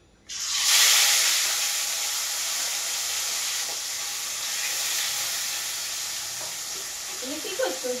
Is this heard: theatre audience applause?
no